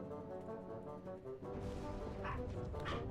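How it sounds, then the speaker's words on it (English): Two puppies in the Wallace and Gromit video game yip and bark faintly, a few short bursts in the second half over a quiet game music bed. "two well-behaved, adorable little puppies"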